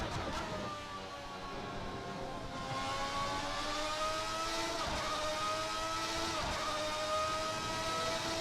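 An early-1990s V12 Formula 1 car in the Assetto Corsa racing game, its high-pitched engine wailing steadily with rising and falling pitch for several seconds, heard alone without speech.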